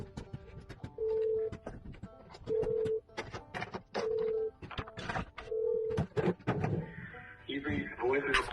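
Outgoing telephone call ringing out, four evenly spaced ring tones about a second apart, clear and fairly loud, with a voice speaking between and after the rings.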